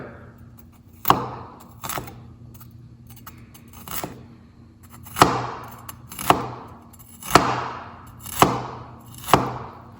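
A knife chopping through fresh ginger on a board: sharp, close, isolated strikes with short pauses between them, roughly six or seven cuts spread irregularly, each with a brief ringing decay, and no talking.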